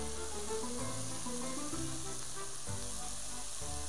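Leek sauce with pepper flakes sizzles steadily in a pan, a constant close crackle of sautéing with no voices over it.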